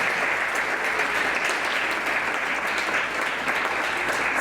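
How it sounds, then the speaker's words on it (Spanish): A church congregation claps steadily and loudly during a Spanish-language service, a dense continuous wash of hands with no voices, cutting off abruptly at the end. "Dale un fuerte aplauso al Señor Jesús."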